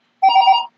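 A single short electronic telephone ring, a clear chirping tone lasting about half a second, loud and close with silence on either side.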